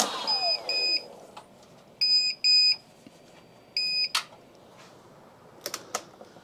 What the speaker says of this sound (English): one of these inverters here starts beeping low voltage alarm